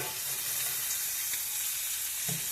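Heavily seasoned chicken breast sizzling on a grill, a steady, dense hiss that holds even and close throughout, with no talk.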